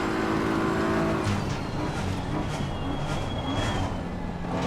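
BMW M4 GT3 race car in Assetto Corsa Competizione, its engine roaring loudly and steadily with rising and falling revs as it races, heard alone without talk.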